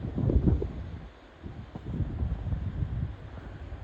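Strong Cyclone Fengal winds buffet the microphone outdoors near a swaying telecom tower and coconut palms, a rough, rumbling roar in uneven gusts, loudest at the start, then briefly easing before picking up again.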